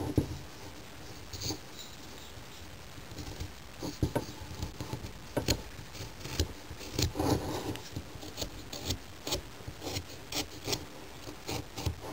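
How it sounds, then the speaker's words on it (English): Sanding a wooden model piece by hand, with a soft, uneven patter of abrasive rubbing strokes close by, steady through the whole stretch and free of talk. "when you sand this kind of stuff, it does take a little bit of time"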